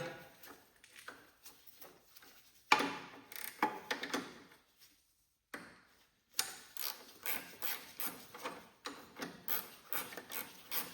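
Wrench ratcheting on a 7/16 nut on a Cub Cadet 2086 Super Garden Tractor with a transmission leak, quiet rapid clicking in bursts separated by short pauses.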